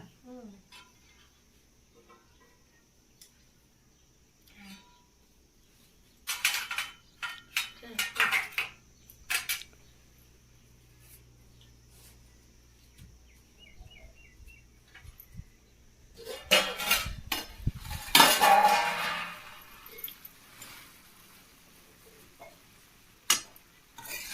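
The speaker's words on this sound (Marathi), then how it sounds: "हलवून घेते आणि मग परत झाकण टाकते" A cooking pot in a home kitchen is stirred with a metal utensil and its lid is put back, with sporadic scraping and clattering bursts, the loudest cluster near the end, between quiet stretches.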